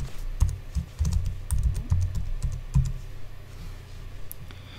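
Computer keyboard keys clatter in quick bursts as a password is typed, close and fairly soft, pausing briefly between runs of clicks with no talking.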